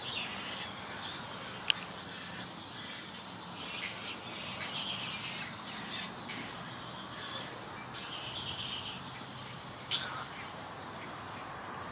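Scattered bird chirps and calls from a tree at an alligator farm zoo in St. Augustine, Florida, over a steady insect buzz outdoors, with a few sharper tweets standing out.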